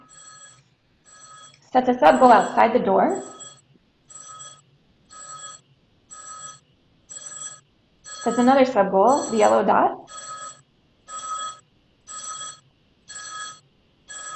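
A telephone rings in a simulated house in a steady pattern of short, evenly spaced electronic bursts that continue throughout, with a voice talking over two stretches of the ringing.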